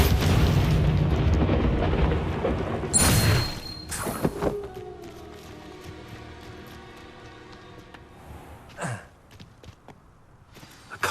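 An Incendio fire spell cast in Hogwarts Legacy bursts as a loud whooshing, roaring blast, followed by a second sharp burst and then a fading crackle and ringing tail, with scattered later effects over quiet ambience.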